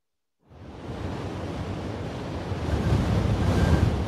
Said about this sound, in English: It's windy and it's really cloudy today.